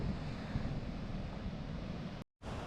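Surf rolls at Bekal beach where the river meets the sea, a steady broad wash of waves mixed with wind rumble under cloudy skies, briefly cutting out near the end.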